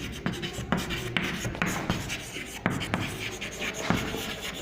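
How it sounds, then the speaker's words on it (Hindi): Chalk or marker writing on a classroom board during a soil lesson, with irregular scratchy strokes and taps in bursts and a faint room background. "ओके, तो पहला पॉइंट लिखेंगे"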